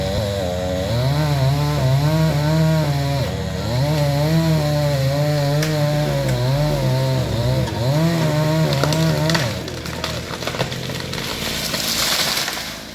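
A chainsaw cuts a hinge low on the back side of a tree in a Thailand village, its engine droning loud and close with wavering revs before it idles down and the trunk creaks.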